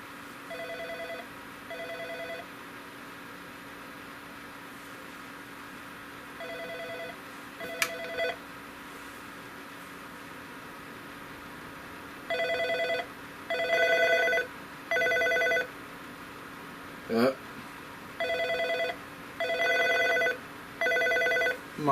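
A telephone on a Norstar phone system rings unanswered, giving repeated paired double-burst rings at a steady cadence with short pauses between them and a faint hum underneath.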